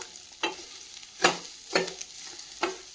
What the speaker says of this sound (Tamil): கட் பண்ணி வச்சுருக்க பெரிய வெங்காயம், நல்லா வதங்கி வரட்டும்.